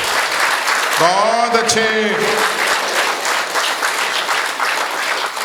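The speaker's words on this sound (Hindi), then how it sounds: "कविता समाप्त हो गई है, तालियां बजाइए" An audience applauding after a poem at a Hindi comedy poetry gathering, dense continuous clapping throughout while a voice briefly speaks over it near the start.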